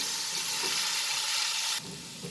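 Onions sauté in hot oil in a pan, a steady bright sizzle that holds evenly close up, then drops suddenly to a quieter frying hiss near the end.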